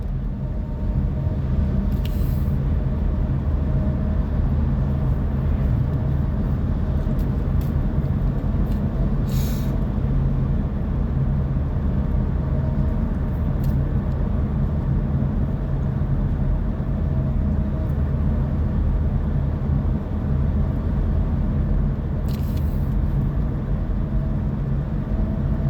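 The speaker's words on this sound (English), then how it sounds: "I forgot what it was because of the traffic" Steady road traffic rumbles past without a break, a dense low hum of engines with a few brief brighter hisses, likely air brakes, rising above it.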